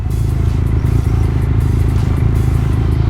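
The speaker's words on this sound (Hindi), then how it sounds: "bike warm up" Motorcycle engine idling while warming up before a highway ride, a steady, close, throbbing low rumble with even rhythm and a little mechanical clatter, with no talking.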